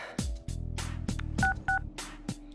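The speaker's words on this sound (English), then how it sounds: "Out of habit, I start going through the contacts in my phone." Phone dialing tones from the Persona 4 Arena Ultimax video game: a quick run of short, crisp beeps in an uneven rhythm, loud and alone.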